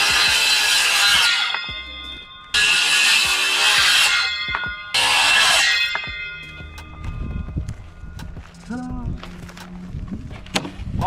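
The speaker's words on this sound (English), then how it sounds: "So we're gonna cut the 2x4s on the back side of the panel, right where a 71 inch seam." Three bursts of a power saw cutting through 2x4 lumber for a gate panel, each loud cut lasting about two seconds, followed by quieter handling clatter and light knocks.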